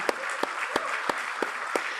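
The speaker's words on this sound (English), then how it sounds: "I'm sure we can do a louder applause for the faculty." Convocation audience at a business school graduation ceremony claps for the faculty, a steady wash of many hands in a large hall with a few sharper claps standing out at regular intervals.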